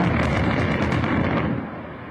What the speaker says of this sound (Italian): spettacolare esplosione organizzata da Prefettura e Protezione Civile dei massi sul costone